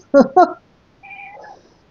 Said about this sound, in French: il y a mon chat qui est venu miauler pour valider